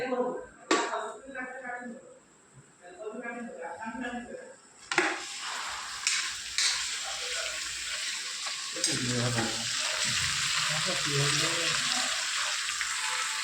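Okra fries in oil with onion and chili in a home kitchen pan. A steady, bright sizzle runs through the second half, after voices talk near the start, with occasional stirring scrapes and clinks against the pan.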